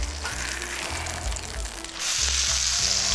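Bacon fries in a hot pan of grease, giving a loud, steady sizzle and sharp pops of spattering fat. A low rumbling background runs beneath, and the sizzle turns brighter and hissier midway through.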